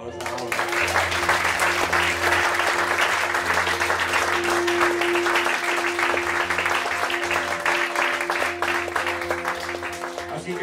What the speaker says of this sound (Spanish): pues ¿por qué no aplaudas ahora?